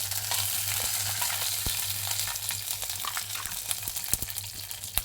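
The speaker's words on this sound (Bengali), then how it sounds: "তেল গরম হয়ে গেছে দিয়ে দিচ্ছি গরম মশলা" Whole garam masala dropped into hot oil for a pigeon curry, crackling and sizzling up close with sharp pops and small spits scattered over a continuous frying hiss, no voices.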